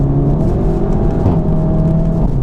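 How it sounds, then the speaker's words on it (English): A VW Golf R with an Akrapovič exhaust revs with a steady, droning exhaust note, loud and close, holding a low rumble throughout. "the actual tone of the exhaust doesn't actually sound that different"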